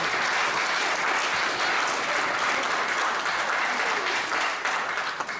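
A congregation at a Bible college conference applauds in steady, dense hand clapping that fills the room continuously and loudly from start to finish.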